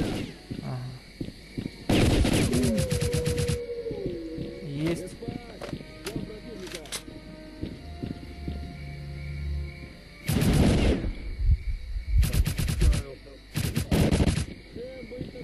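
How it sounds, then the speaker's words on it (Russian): Bursts of rapid automatic rifle fire with armor-piercing rounds in S.T.A.L.K.E.R.: Clear Sky, loud and close, coming in several long volleys separated by quieter stretches where someone talks. "Бронебойными патронами. Это винтовочка, ничего стреляет."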